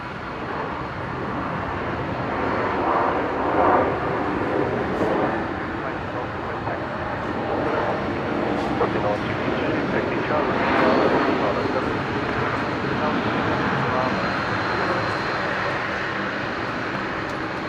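Virgin Australia flight 705 from Hobart lands on runway 01 at Brisbane, with a steady, broad jet roar that rises and falls gently over about eighteen seconds, heard from some distance, while air traffic radio chatter plays over it.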